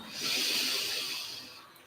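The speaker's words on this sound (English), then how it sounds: "And take a nice deep breath in." A single deep inhale during a gentle slow-flow yoga session, a soft airy hiss that swells over about a second and then fades, close to the microphone with no talking.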